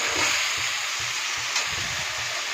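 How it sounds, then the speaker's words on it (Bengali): Spice paste for potato curry (aloo dum) fries in hot oil, giving a continuous close sizzle with regular stirring scrapes pulsing through it. No talking. "এটা ভালো করে মশলাটাকে কষাতে হবে যতক্ষণ না তেল বেরিয়ে আসে"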